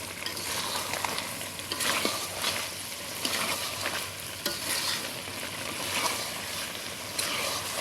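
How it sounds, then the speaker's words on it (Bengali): Mutton stir-frying with chili paste in a pot over a clay village stove, a steady close sizzle with repeated scraping stirs running through the whole stretch, no voices. "কষানো চলতেছে।"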